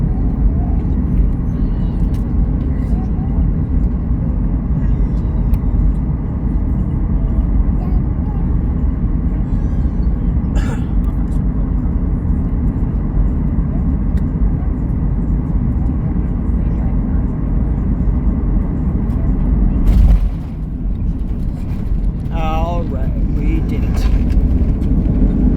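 An airliner lands at Winnipeg's Richardson Airport in wildfire smoke, a loud, constant engine roar heard from inside the cabin, with a brief clunk partway through and faint talk underneath.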